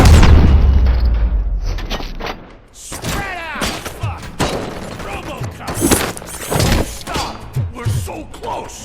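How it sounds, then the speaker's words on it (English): Planted bombs explode in the game RoboCop: Rogue City, heard as a loud booming blast at the start that fades, followed by scattered thuds, crashes and debris amid game action. "We'll make the place go boom!"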